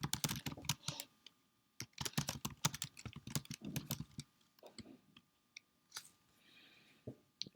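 Fingers type on a computer keyboard in quick, close clicking bursts separated by short pauses, with a few isolated keystrokes near the end.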